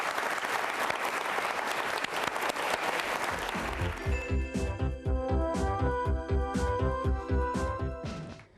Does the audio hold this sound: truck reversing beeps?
no